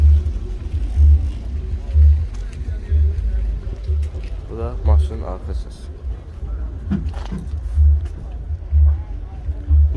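Rear exhaust of a 2005 car with a 1.3 engine and about 372,000 km, idling at a car market: a steady low rumble with regular pulsing throbs, fairly close, with voices talking nearby.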